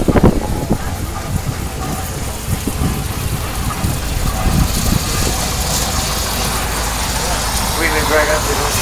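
A 1916 steam showman's tractor chugs and idles steadily close by, with people talking over its low rumble.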